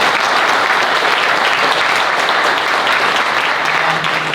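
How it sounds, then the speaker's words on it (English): Sustained applause from a conference audience after a panel on humanoid robotics, dense and even clapping filling the room for several seconds. "please give our panel a round of applause."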